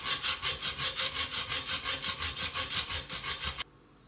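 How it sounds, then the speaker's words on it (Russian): A hand hacksaw cuts through metal while a fishing rod handle is being made, with fast, even back-and-forth strokes close by, loud and rhythmic, stopping abruptly near the end. "Спиливать я все это буду с помощью обычной ножовки по металлу."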